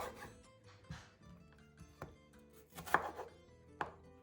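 Knife slicing peeled onions into thin slices on a cutting board for fajitas, with several distinct close chops spaced irregularly and a couple of sharper louder cuts, no talking.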